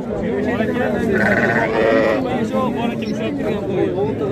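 Large sheep bleat loudly and close at a livestock market in Izboskan, Andijan, several overlapping wavering calls, while people talk nearby.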